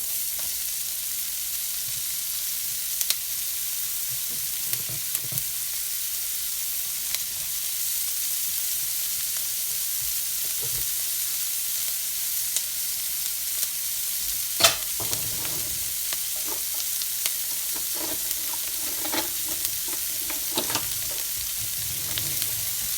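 Chopped onion frying in a pan for rumbledethumps: a steady, close sizzle runs throughout, broken by occasional scrapes and light knocks as it is stirred, with no voices.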